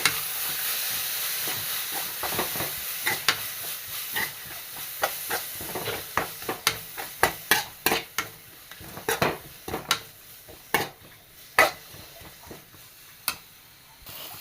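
Onions softened in a pan with crushed ingredients stirred in, giving a steady low sizzle broken by a run of sharp scraping and stirring clacks that grow denser midway; no talking.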